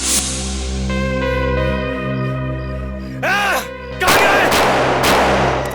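Several sharp gunshot-like bursts crack over a sustained musical drone with swooping effects, loud and close, ending in a dense noisy blast.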